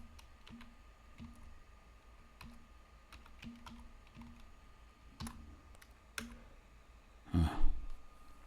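Keys on a computer keyboard clatter in a quick sequence of light clicks while a password is typed into an office computer, fairly quiet throughout, ending with a louder burst of clacks near the end.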